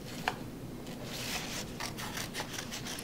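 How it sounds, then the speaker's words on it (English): Scissors cutting construction paper at close range, a faint run of soft snips and rasping paper scrapes with one sharper click near the start, no voices. "So you want to make sure when you're cutting that you move the paper instead of moving your scissors around."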